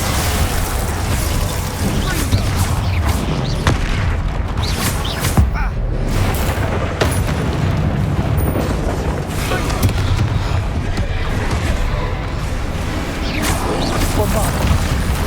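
Bombarda blasting spell in Hogwarts Legacy, a dense run of booming explosions and sharp bursts that keeps coming, loud and close throughout, with crackling debris and other game effects layered in.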